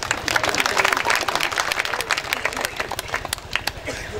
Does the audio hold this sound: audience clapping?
yes